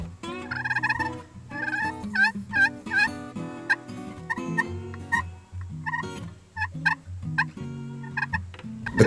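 A turkey call imitates a female wild turkey, giving rhythmic series of close yelps and clucks that vary in pitch and pacing, with no one talking.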